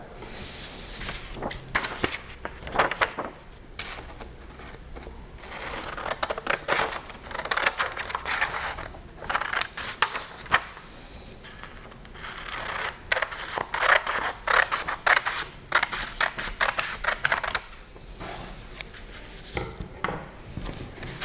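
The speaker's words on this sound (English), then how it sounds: "So we're going to cut away the excess brown paper." Scissors cutting away excess brown paper, repeated crisp snipping strokes in short bursts separated by pauses, with soft paper rustling and handling noises, close and clear without talk.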